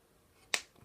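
Wire cutters snip a crimped wire to length, one sharp close click followed by a faint second tick.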